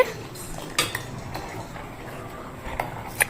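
Spoon stirring sugar into palmyra sprout payasam in a metal pot, with a few sharp clinks and scrapes against the sides over a soft background hiss.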